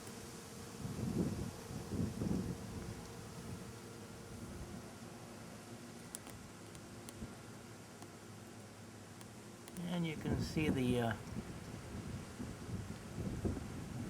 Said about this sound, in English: It's a bit breezy and windy out tonight.